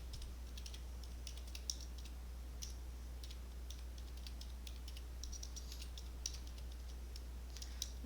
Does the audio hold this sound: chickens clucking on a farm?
no